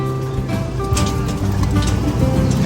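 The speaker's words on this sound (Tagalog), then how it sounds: "Papasukin muna natin itong mga kalapati dito." Pigeons cooing in a loft as they are brought inside, with soft repeated low coos and faint fluttering over a steady background hum.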